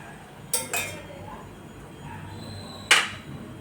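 Dry fruits dropped into sweet potato kheer in a pan, with a few sharp clinks of a metal spoon against the vessel, two close together and one more a couple of seconds later, in a quiet kitchen.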